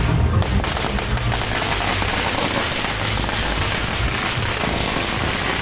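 Firecrackers burst in rapid, dense crackling volleys at a street celebration for a reality-show winner's homecoming, loud and continuous throughout.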